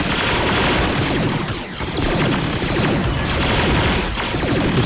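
Dense, continuous automatic gunfire in a Star Wars-themed battle in Men of War: Assault Squad 2, with overlapping bursts and booms at steady loudness throughout, no voices.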